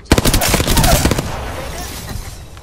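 Apex Legends gunfire rattles in several quick, sharp, close automatic bursts with uneven gaps, fading into a softer echoing tail.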